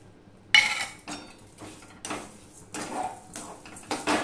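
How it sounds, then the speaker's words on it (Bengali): A spoon scrapes and knocks against a kadai while semolina dough with sugar and a pinch of salt is stirred off the heat. Bursts of scraping and clinking come up close in an irregular rhythm. "দেখো আমি গ্যাসটা অফ করে দিয়েছি আর সমানে নাড়তে থেকেছি।"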